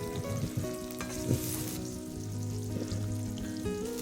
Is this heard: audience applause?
no